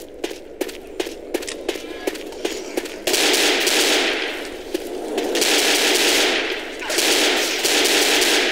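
Rapid automatic gunfire from the video game Left 4 Dead, starting as a string of sharp close shots and then merging into sustained loud bursts of fire with short gaps between them.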